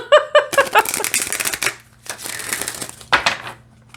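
Rapid riffling bursts of a coated oracle card deck being shuffled up close, several quick cascades with short pauses between them.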